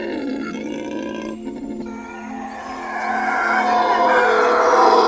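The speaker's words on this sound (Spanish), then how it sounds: "el bosque resuena con un aullido que se propaga a varios kilómetros de distancia" A black howler monkey howls in the Amazon forest, a deep roaring call that swells louder and rises in pitch over several seconds, close and powerful with a hollow resonance.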